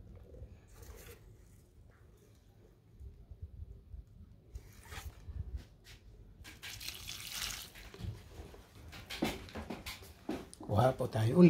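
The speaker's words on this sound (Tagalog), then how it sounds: "Ayan po, lalagyan natin ng tubig." Water running from a tap into a container for watering indoor plants, building in the second half with splashing and sloshing as the vessel fills, alongside some handling noise.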